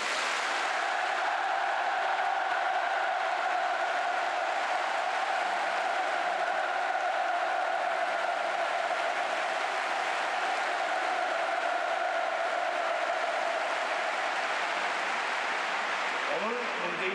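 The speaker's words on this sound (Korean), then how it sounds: "문재인 대통령에게 다시 한번 뜨겁고 열렬한 박수를 보내주시기 바랍니다" A huge Pyongyang stadium crowd applauds President Moon Jae-in, a dense, continuous roar of clapping that stays evenly loud the whole time, with a steady tonal hum running beneath it.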